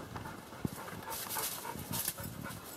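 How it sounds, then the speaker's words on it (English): A dog pants heavily inside a cave, its quick, rhythmic breaths close and fairly faint against a steady hollow background, with one sharp knock partway through. "May be able to hear my dog breathing heavily behind us."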